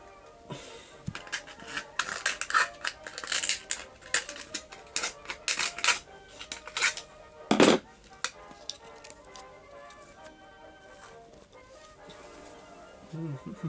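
Plastic bottle being cut while building a small tube shelter, a run of crisp snipping and crackling bursts, close and fairly loud, clustered early then thinning to quieter rustling.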